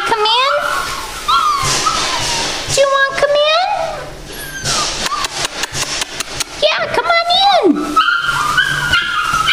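Six-week-old puppies outdoors whimper, whine and yip in rising, squeaky bursts, some long and sliding, others quick and choppy, close and fairly loud, with a person's voice mixed in.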